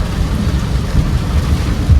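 Steady rain pours down in stormy weather on a Konkan coast trip, with low thunder rumbling continuously beneath the dense hiss of the downpour. No one speaks.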